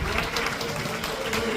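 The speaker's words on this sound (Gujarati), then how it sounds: "તાળી પાડો" A seated audience claps steadily at a Shiv Puran katha religious gathering, a dense, even wash of applause sustained through the short moment with no pause.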